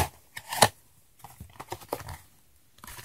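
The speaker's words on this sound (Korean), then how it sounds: "한번 뜯어볼게요." Package torn open by hand, a few quick crinkly rips and rustles in close, irregular bursts with short pauses between them, no talk over it.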